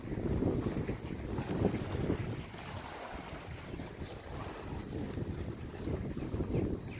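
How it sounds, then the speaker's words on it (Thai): Continuous wash of water and wind at the shore of Kwan Phayao lake in Phayao, Thailand, steady low rumble with soft lapping surges, no voices. "เสียงคลื่นกระทบฝั่งครับ"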